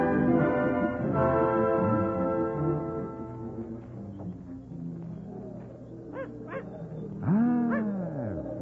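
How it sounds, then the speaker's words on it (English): Small dog in an old radio drama about a balloon ascent, whimpering and yelping in bursts amid tonal background sound and music, fairly close and loud, with no talk over it. "You are an American dog"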